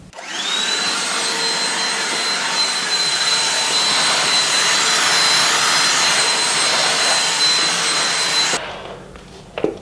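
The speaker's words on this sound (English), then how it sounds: "Well, I can quickly vacuum." A vacuum cleaner runs at close range to pick up cat hair, a loud steady whine with a high tone held for about eight seconds before it cuts off abruptly.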